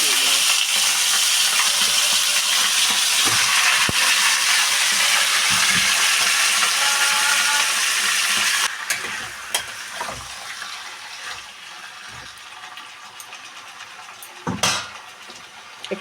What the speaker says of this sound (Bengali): একটু মাংসটা ভেজে নেব